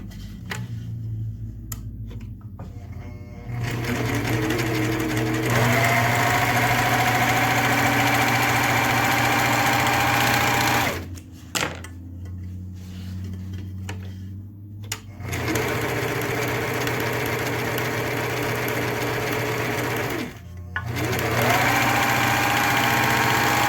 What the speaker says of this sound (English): if you have a serger, you're gonna go ahead and serge this edge and this edge of the body